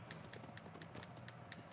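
A horse gallops in Shadow of the Colossus, its hooves striking in a quick, rolling rhythm of faint, distant clip-clops over low ambient noise.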